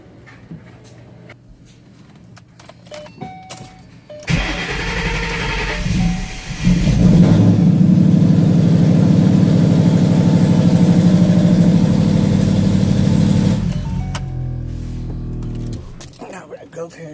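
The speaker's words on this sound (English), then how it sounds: "we're gonna turn the car on for a couple seconds" A Ford Mustang fitted with a Steeda idler and tensioner pulley kit cranks and fires up in the engine bay, then settles into a steady, loud idle for several seconds before being shut off, with quiet handling noises before and after.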